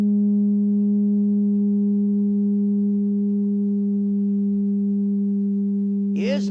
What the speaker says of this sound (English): I'm going to fill this pipe with music